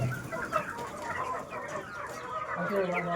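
Reverse-feathered frizzle chickens on a poultry farm cluck softly and steadily in the background with faint distant crowing, close enough to hear but fairly quiet, with someone talking over them.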